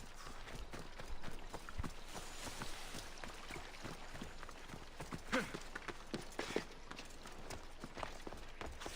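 Rapid rhythmic hoofbeats of a horse galloping in the video game Assassin's Creed Odyssey clatter steadily, with a few sharper knocks mixed in, fairly quiet and without talking.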